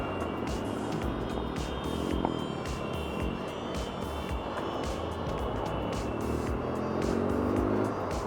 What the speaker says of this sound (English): you see a little group of fancy cars going past